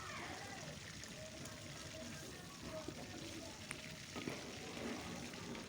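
Fish frying in hot oil in a pan for a home-cooked fish, bean and potato curry, giving a faint, steady hiss with a few soft clinks and bubbling pops, close by and low in level.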